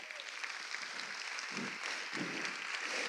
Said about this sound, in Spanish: Ese aplauso para todas nos.